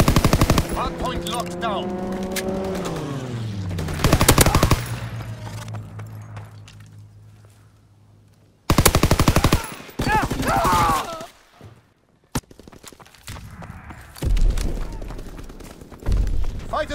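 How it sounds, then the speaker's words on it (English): Rapid bursts of strafing gunfire from a fighter aircraft sweep through a video game battle, loud and close, arriving in several sharp volleys between stretches of radio-style voice callouts. "Fighter pilot inbound, strafing the target."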